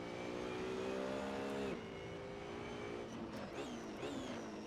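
Race car engine lapping the Nürburgring Nordschleife in Assetto Corsa, a loud, steady high-revving whine that drops sharply on a downshift near two seconds, then climbs and wavers through further gear changes, with no talk.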